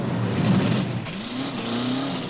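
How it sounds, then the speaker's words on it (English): A high-performance muscle car engine roars close by, revving with a rising and falling growl that holds steady and loud throughout. "The roar of the engine, the screech of the tires"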